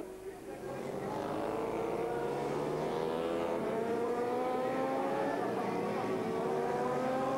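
A Kawasaki V-twin racing motorcycle at the 1997 Bol d'Or endurance race, ridden by Terry Rymer, its engine rising through the gears in a steady whining drone that grows louder after a brief quieter start, with a commentator talking over it.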